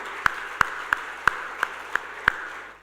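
Applause for a speaker at a talk: seven slow, evenly spaced claps ring out one by one, fairly close and distinct against a quiet room, fading at the end.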